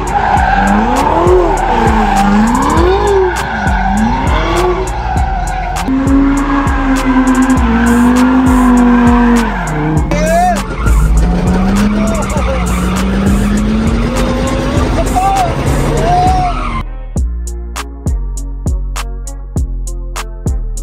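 A Ferrari and a 1600 BHP all-wheel-drive Nissan GT-R drag race, with loud, sustained tire skidding and squealing over roaring, revving engines, followed by sharp, staccato bursts near the end.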